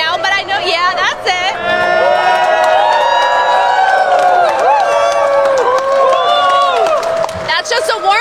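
A big crowd gathered on a stock exchange floor for the closing bell whoops and cheers with overlapping shouts and high, gliding voices, loud and near, with chatter throughout.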